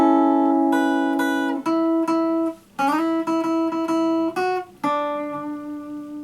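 A guitar plays a short melodic section of single notes and chords, with clear sustained harmonic tones and a few brief gaps between phrases, alone and fairly loud.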